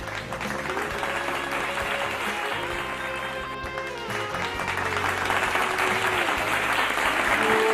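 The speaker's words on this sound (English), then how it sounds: "let's give them a round of virtual applause, please." Sustained applause from an audience at a university's 75th founding anniversary celebration honoring silver jubilee service awardees, a steady dense clapping that holds evenly for the whole stretch with a faint murmur of voices beneath.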